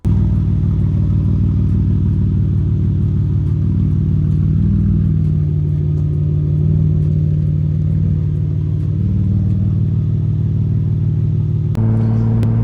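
A BMW E46 fitted with a big aftermarket exhaust rumbles steadily as it drives, with a deep, continuous low engine drone that stays loud and close throughout, shifting slightly in pitch near the end.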